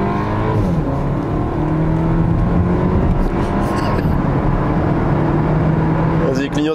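A Porsche accelerates at full throttle, its engine note climbing steadily in a loud, sustained roar heard from close by, with a voice briefly speaking over it.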